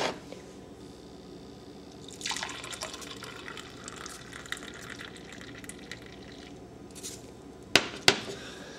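Coffee is poured and spilled while making café con leche, a steady close liquid stream and splashing running for several seconds, ending with a couple of sharp knocks.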